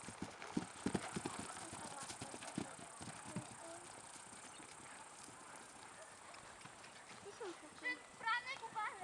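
Horse hooves clip-clopping across a small jumping course, a steady run of close thuds, with people talking and calling out over them.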